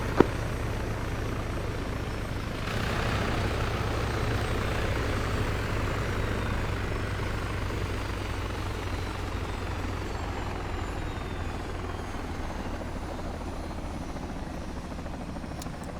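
A military helicopter's engines spool down during a special operations aviation training flight, a loud, steady turbine roar and rotor drone that fills the whole stretch without fading much.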